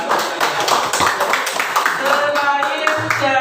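Classroom applause from students during a teaching session, a short burst of brisk clapping with voices talking over it.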